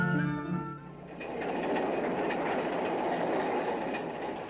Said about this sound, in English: A train with several private cars carries the emperor and his official party swiftly to Washington, D.C., the nation's capital.